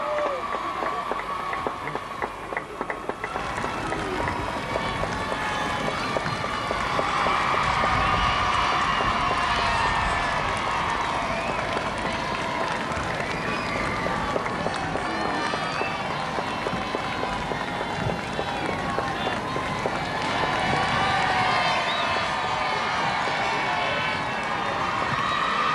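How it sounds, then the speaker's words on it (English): A vast outdoor crowd in a town square below Snowdonia applauds and cheers steadily at the 1969 investiture of the Prince of Wales, a dense, sustained roar of clapping and voices that rises and swells throughout. "There is no mistaking spontaneous applause, and this is the real thing."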